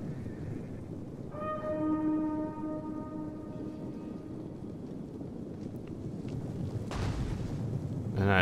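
Massed units opening fire in a Total War: Attila battle: a dense rumbling din of volleys and clatter that swells and ebbs over several seconds, with a sharp burst near the end.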